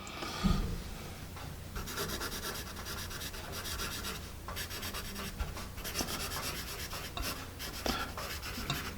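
Continuous close scratching of Paper Mate Mirado #2 HB pencil lead on paper, a soft papery rasp with brief strokes and pauses, no voices.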